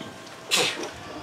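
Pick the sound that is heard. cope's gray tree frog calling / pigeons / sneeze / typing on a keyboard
sneeze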